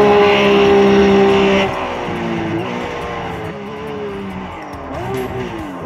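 A RUF race car, a Porsche-based club racer, heard from outside in a driving simulator at Daytona, its engine droning loud and close, revving and dropping through gear changes while the tires squeal.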